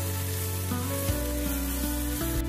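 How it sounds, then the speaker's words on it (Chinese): Chinese chives are stir-fried in hot oil in a wok, giving a steady sizzle with tossing and stirring. Other steady tones run underneath. "油热后再把韭菜倒进去，给它翻炒均匀。 把韭菜炒至断生，大概翻炒个15秒钟左右。"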